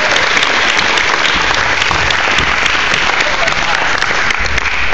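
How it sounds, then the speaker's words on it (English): A crowd at a school presidential debate event applauds a skit with loud, continuous clapping throughout, mixed with a murmur of crowd voices. "a round of applause for the Sheen Sisters and Company"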